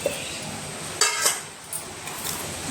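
A few hard clinks and knocks of a mixer grinder jar being picked up and set down for a banana shake, close by, with quiet room hiss between.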